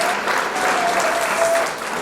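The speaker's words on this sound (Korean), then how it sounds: "천장이 무너지도록 큰 박수로 부탁드리겠습니다" A large indoor audience at a business seminar claps loudly and steadily throughout, a thick, even roar of many hands.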